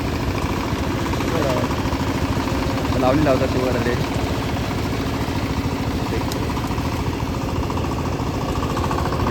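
A tractor runs in a muddy paddy field during rice planting, making a steady, throbbing, moderately loud engine drone that continues without a break while a person talks over it.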